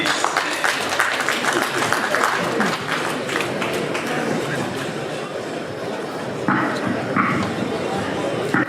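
At a Kenyan national secondary school sports event in Machakos, a crowd applauds and cheers a speaker with steady, dense clapping and talking voices mixed in, loud and sustained.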